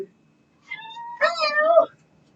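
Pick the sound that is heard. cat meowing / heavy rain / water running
cat meowing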